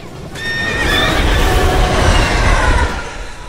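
A horse neighs in the video game Princess Peach Showtime, a loud whinny with a rising harmonic cry lasting over a second, followed by continuous rumbling game sound like a moving train.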